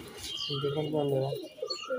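A male Jiriya Madras pigeon gives a short, low throaty coo close by, soft and rolling, with faint chirps and background noise around it.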